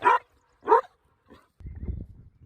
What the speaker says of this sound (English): Being attacked by my dog right now.